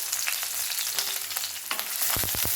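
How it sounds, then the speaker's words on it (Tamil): Onion sizzles steadily in a pan with fennel seeds, dried red chillies and curry leaves for a mint-coriander chicken fry. A soft continuous crackle is close by, with a few quick stirring knocks near the end. "நல்லா வெங்காயம் வதங்கிட்டோம்"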